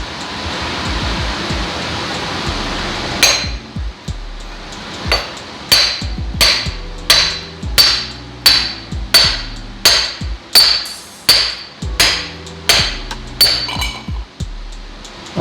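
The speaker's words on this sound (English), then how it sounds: "now I'm going to try to just see if I can hammer this guy out" Loud metallic hammer strikes knocking a part out of a 1969 VW Bus front beam assembly, about a dozen sharp ringing blows in a steady rhythm, following a few seconds of rushing noise.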